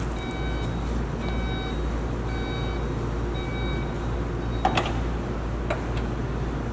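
Audi Q3 power tailgate closing, a 2020 Technik Quattro, with a regular series of electronic warning beeps over a low steady hum and a brief mechanical clunk near the end.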